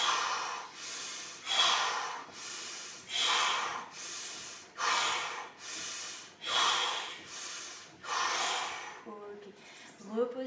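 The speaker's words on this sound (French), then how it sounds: "inspirez par le nez, soufflez par la bouche." Steady yoga breathing during a vinyasa flow, drawn in through the nose and blown out through the mouth, about eight close, even breath cycles in a regular rhythm, with a brief voice at the very end.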